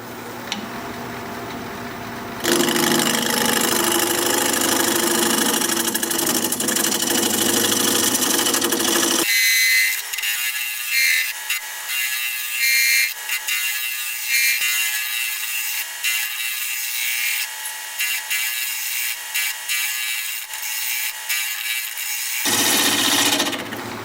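A wood lathe spins a workpiece while a shorty gouge cuts it, giving a close, harsh scraping hiss that starts after a quiet moment, drops back, then returns. A steady motor hum runs under the cutting.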